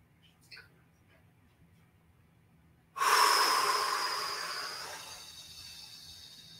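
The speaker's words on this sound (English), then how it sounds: "Breathing out." Deep exhalation during a lung-opening stretch exercise, a single long breath out that starts abruptly halfway through and fades slowly, close and fairly quiet after a faint earlier sound.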